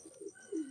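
Pigeon cooing, a soft low two-part coo repeated twice at close range, with faint bird chirps higher up and no talking.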